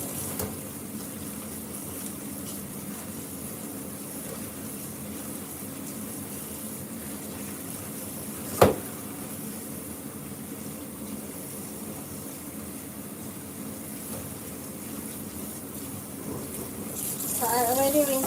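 Celery being rinsed under a running kitchen tap, a steady low wash of flowing water through most of the stretch with one sharp knock midway and a brief louder gush at the end.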